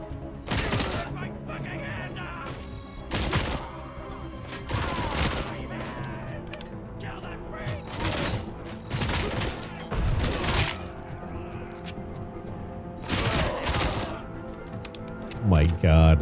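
Gunfire in a horror video game: loud bursts of repeated shots come in separate volleys every couple of seconds, some rapid like automatic fire, with a voice speaking between them.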